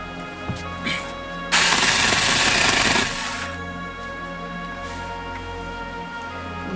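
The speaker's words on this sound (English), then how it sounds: "Some firewood, chainsaw," A brief loud burst of chainsaw cutting firewood, about a second and a half of harsh buzzing, over a steady mechanical hum.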